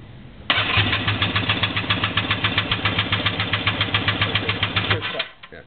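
Kawasaki 650 jet ski engine cranking during a compression test on the back cylinder, a loud, rapid, rhythmic whirring chug that starts abruptly, holds steady for about five seconds, then cuts off.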